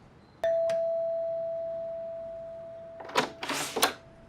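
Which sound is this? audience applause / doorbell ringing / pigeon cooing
doorbell ringing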